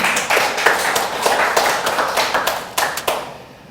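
A church congregation claps during a Korean Sunday worship service, a close burst of hand claps with uneven, pulsing accents that fades out near the end.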